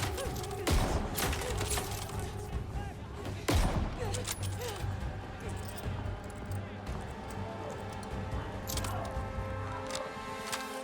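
Bursts of gunfire from blind fire in Call of Duty: Vanguard, with two loud sharp shots standing out early over a continuous busy game soundscape and some talk underneath.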